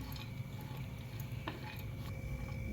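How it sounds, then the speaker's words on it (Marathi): Cashews dry-roasting in a pan are stirred until they change colour, giving soft scraping and light clinking against the pan, quiet and continuous with no voices. "आता हे काजू आहेत कलर चेंज होईपर्यंत आपण भाजून घेऊया"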